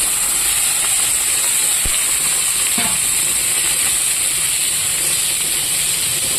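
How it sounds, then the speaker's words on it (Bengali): Boiled greens fry in oil in a wok, producing a loud, constant steamy hiss with a couple of faint clinks, close up and without any voices. "এবার এখানে শাকটা ভেজে নেব"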